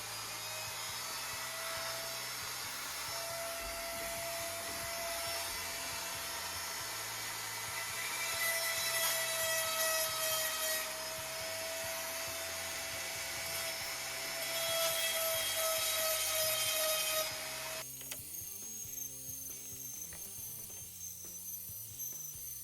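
A saw cuts a log at a 30-degree angle during an off-grid log cabin build in the Colorado high mountains. A loud, steady mechanical whine with ratcheting texture runs continuously, swells around mid-cut, then drops to a rougher, quieter rattle near the end.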